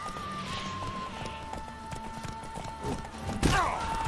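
Horse hooves clattering as a mount gallops through horseback combat in The Witcher 3, a steady clip-clop running under game music and effects, with a sharp burst of impact noise near the end.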